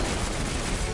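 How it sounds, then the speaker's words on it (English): Heavy, continuous gunfire fills a short one-second moment of a Destiny 2 match on PS4, as a loud, dense crackle with no talking. "So I'm gonna run towards all the gunfire."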